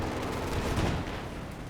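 Dense, continuous barrage of gunfire in Company of Heroes 2, a loud wash of overlapping shots and rumbling blasts with no breaks.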